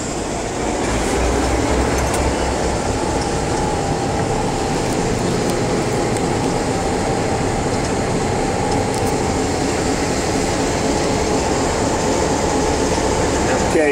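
Locomotive running at the Orange Empire Railway Museum during a Rail Fest cab ride with throttle notches being raised, a loud steady engine rumble with rail clatter throughout and occasional faint voices.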